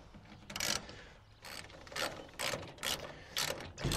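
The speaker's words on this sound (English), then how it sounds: "begin to tighten. You'll use a 1/2 inch socket 3/8 ratchet" A 3/8 ratchet turning a 1/2 inch socket tightens a Truxedo Deuce tonneau cover rail on a Ford F150 pickup, giving close, repeated bursts of clicking about every half second.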